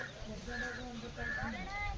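Soft, nearby chicken clucking, a few short throaty calls in quick succession over faint background noise, with voices talking lightly around it.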